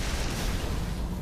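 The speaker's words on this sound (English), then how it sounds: "We have secondary explosions in the engineering area." Heavy rumbling blast aboard a sci-fi spaceship under attack, a loud, sustained low roar filling the whole moment with no voices.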